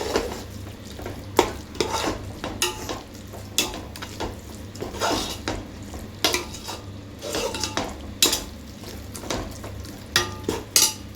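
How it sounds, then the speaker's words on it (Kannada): Masala frying in oil for mutton biryani, stirred steadily with a metal spoon that clinks and scrapes against the pot in repeated strokes over a soft, constant sizzle, close and with no talk. "ಮಸಾಲೆನ ನಾವು ಎಣ್ಣೆ ಬಿಟ್ಕೊಳ್ಳೋವರೆಗೂ ಹುರ್ಕೊಳ್ಬೇಕು"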